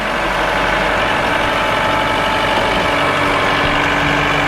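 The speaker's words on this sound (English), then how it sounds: "I just did a quick little 6-inch ditch with the backhoe" A backhoe's diesel engine idles steadily and loud nearby, a constant low rumble with no other sounds over it.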